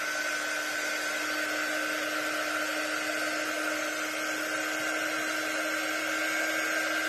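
A hair dryer blows steadily and loudly at close range, drying a bee-themed craft box frame, an unbroken whine with no talk.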